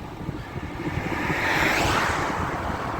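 Steady wind roaring over the microphone of a cyclist on a fast, shaded road section near the Côte de Chambralles around Aywaille, a broad continuous rush that swells slightly midway with no talking.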